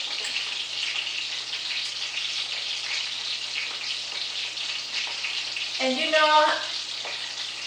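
Vietnamese fish balls fry in hot oil with a steady, bright sizzle that runs throughout, briefly broken near the end by a short voiced sound.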